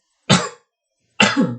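Two sharp, loud coughs from one person, spaced about a second apart, each a short harsh burst with no talking between them.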